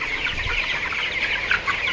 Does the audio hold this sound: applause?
no